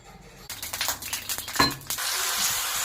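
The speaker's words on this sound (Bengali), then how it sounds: "এরপর কড়াইতে তেল গরম করতে দিলাম, তারপর বড়াগুলোকে একে একে ভেজে নিচ্ছি" Lentil fritters (bora) fry in hot oil in a wok. A few clattering utensil knocks come first, then a steady, close sizzle takes over for the rest.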